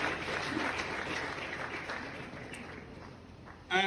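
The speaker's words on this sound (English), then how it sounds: "Please a round of applause for Doctor once again." Audience applause at a public lecture at Akwa Ibom State University, a soft, even wash of many hands clapping at a distance that tapers gradually, with a brief louder burst near the end.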